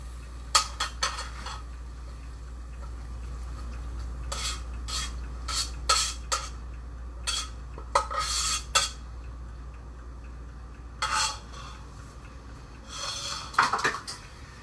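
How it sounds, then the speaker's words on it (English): Ingredients for a barbecue dish being shaken and stirred together in a dish, with scattered scraping, rubbing clinks and rattles coming in irregular bursts over a steady low hum, no talking. "what you want to do is you want to kind of shake everything up, mix it"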